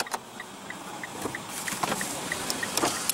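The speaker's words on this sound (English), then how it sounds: "Automatic driver's side window." Automatic driver's side power window of a 2015 Mitsubishi Outlander Sport with a 2.0-litre four-cylinder, a steady motor whir running through the clip with faint regular clicks, likely hazard lights, heard close with no talking.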